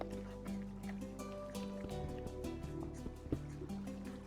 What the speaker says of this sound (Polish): No super, wodę znaleźliśmy.